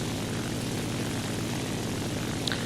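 Propeller plane engine in a combat flight video game, a steady close droning roar that fills the whole clip without a break, with no voices.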